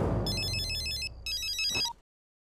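An electronic phone ringtone chirps in two bursts of rapid warbling tones, with low rumbling noise underneath, then falls silent.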